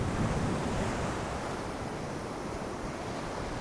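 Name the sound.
strong wind and waves crashing on Lake Erie beach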